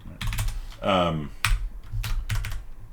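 Keys on a computer keyboard are tapped in a few quick, close clicks while a number is typed in, with a voice speaking briefly between the keystrokes.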